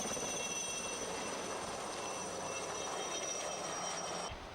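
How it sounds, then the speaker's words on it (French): A helicopter flies over coastal cliffs near a seaside road, giving a steady, broad rushing rumble that holds at fairly low volume for several seconds before cutting off abruptly. "D'autres, ce serait plutôt l'hélicoptère."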